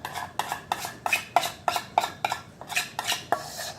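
A spoon scraping cake batter out of a bowl into a mug, about ten quick scrapes and knocks in a steady rhythm, close and moderately quiet, with no talk.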